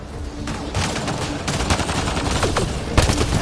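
Rapid gunfire in a Mass Effect Andromeda firefight, dense overlapping bursts of shots and sharp cracks, loud and close, continuous with no pause.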